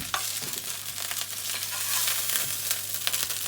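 Meatballs in sauce simmer on a hob over low heat, giving a continuous close sizzling and bubbling hiss with occasional soft pops and faint stirring scrapes.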